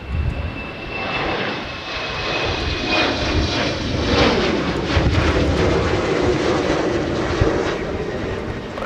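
A Breeze Airways airliner departing Minneapolis–St. Paul Airport for South Bend, a loud continuous engine roar that holds steady and swells slightly throughout, with no voices.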